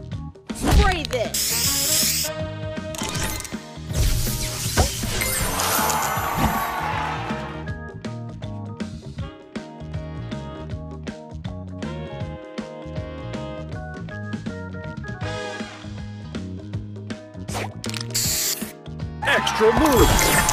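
A hissing spray effect from a booster in a match puzzle mobile game, with bright bursts of spray and chimes repeating over looping game music.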